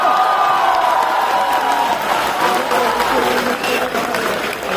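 A live crowd at an IIT Roorkee stand-up comedy performance claps and cheers, sustained applause with scattered whoops filling the hall, steady and fairly loud.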